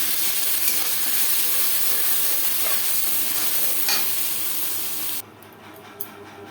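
Spice paste with dried red chillies stirred and frying in a pan for a fish curry, a steady loud sizzle with scraping stirs that cuts off near the end.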